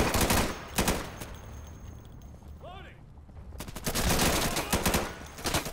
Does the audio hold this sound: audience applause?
no